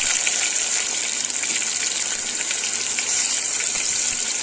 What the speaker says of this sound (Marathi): आणि कांदा हा व्यवस्थित असा गोल्डन कलरचा होईपर्यंत आपण तळून घेऊया.